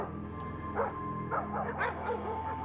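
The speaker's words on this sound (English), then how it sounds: "Somewhere a dog barks" A dog barks somewhere in a suburban neighbourhood: a series of faint, distant yips and barks in an irregular rhythm over a steady background hum.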